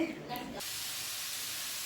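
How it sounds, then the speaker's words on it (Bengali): Brief voice at the start, then a steady, soft hiss of beetroot frying in a pan continues alone. "এখানে বিট ভাজা বসিয়েছি"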